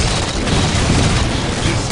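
A grenade blast in Halo 4 multiplayer: a loud, dense, rumbling explosion that fills the moment with heavy low boom and broadband roar, sustained without talk.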